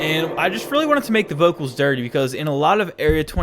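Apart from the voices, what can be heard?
No everyday noise stands out behind the speech.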